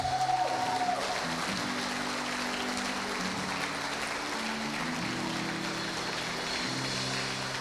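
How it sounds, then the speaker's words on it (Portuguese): Loud, steady applause fills a church service, a dense continuous wash of clapping running the whole time over sustained music-like tones underneath. "Aplauda bem forte aquele que é digno."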